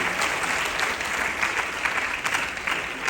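An audience at a national school award ceremony applauds continuously, an even, dense patter of clapping hands at moderate loudness throughout.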